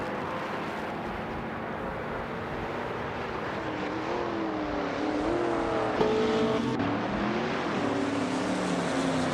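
Vintage race cars, including a 1966 McLaren M1B, race at Mugello in a video game, engines droning and rising in pitch as they accelerate, with steady close engine roar throughout.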